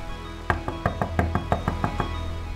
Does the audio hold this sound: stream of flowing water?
no